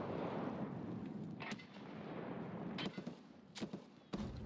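A grenade blast in the video game Escape From Tarkov gives a heavy, booming rumble that decays over a few seconds, followed by several sharp distant cracks of gunfire, with no talking.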